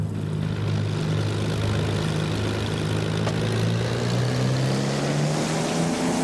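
A Spitfire's propeller engine taxiing in Microsoft Flight Simulator gives a loud, steady droning roar whose low tone slowly rises in pitch, close and unbroken throughout.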